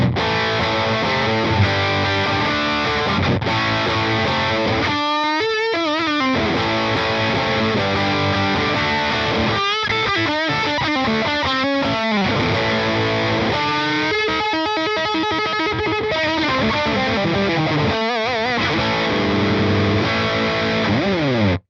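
Heavily distorted electric guitar through a Hughes and Kettner Spirit Nano amp plays 80s-style rock chords and palm-muted riffs, loud and upfront, with short pauses between phrases.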